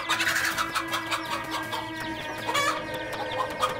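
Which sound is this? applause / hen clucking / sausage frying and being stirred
hen clucking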